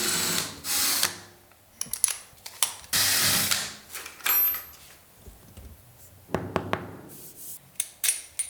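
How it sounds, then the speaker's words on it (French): A stabilizer is screwed into the linear drain of a walk-in shower. Intermittent short bursts of whirring and ratcheting clicks are separated by brief pauses, fairly close and moderately loud. "Place le stabilisateur et visse."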